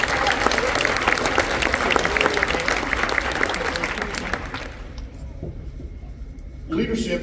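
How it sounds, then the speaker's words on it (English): Loud audience applause at a freshman academy wind ensemble spring concert, honoring the most improved percussionist; dense clapping fades out after about five seconds, and a voice starts speaking near the end. "Let's give him a round of applause"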